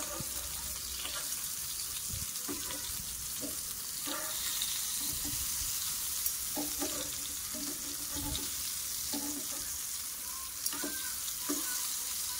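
Eggplant fries in oil for a dahi baigan dish, giving a continuous close sizzle broken by scattered clinks and scrapes of stirring; a brief word or two of speech comes through faintly.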